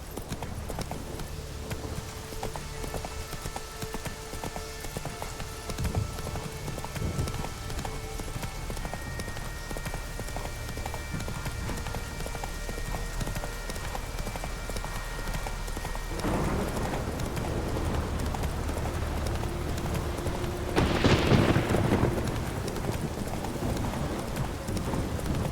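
In The Witcher 3 the horse Roach gallops with a steady rhythmic clip-clop of hoofbeats. Ambient game sound lies under the hooves, and a brief louder swell comes near the end.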